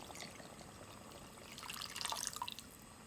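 Water is poured from a measure into a large cooking pot for beef curry, a soft trickle that swells into a brief splashing pour, close and fairly quiet, with no voices.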